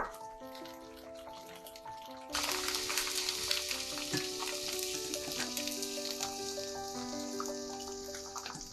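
Egg-fried tofu pieces sizzle steadily in a hot pan, a quiet bubbling fry that jumps to a louder, denser crackle after a couple of seconds as the pieces are flipped with a turner and chopsticks.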